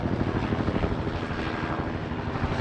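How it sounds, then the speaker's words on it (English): A helicopter passes overhead with a loud, steady rotor thump and engine roar that fills the whole stretch. "and of course lots of helicopters flying over."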